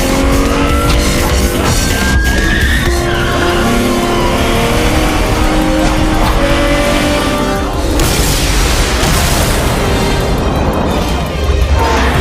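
A car races at speed through a film car chase on winding roads and a parking garage, its engine roaring and revving loudly with tire squeals and impacts under a dramatic score.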